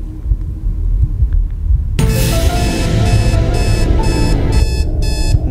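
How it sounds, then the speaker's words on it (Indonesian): A loud electronic alarm clock in a horror video game set in a motel rings in a steady, repeating beep pattern after a short low rumble, continuing without talk. "Set alarm, go to sleep."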